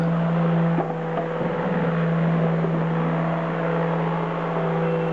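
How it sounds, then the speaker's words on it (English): Battery-powered fan motors on a small homemade hovercraft run as a steady, loud electric whine with a constant drone, close by and without talk. "Now when both are powered up, see how nicely and quickly it's hovering all around."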